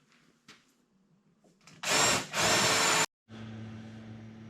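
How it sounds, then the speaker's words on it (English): Power drill countersinking screw holes in a CNC wasteboard, with two loud whirring bursts near the middle, then a steady hum, alone. "all I got left now is to countersink all these holes"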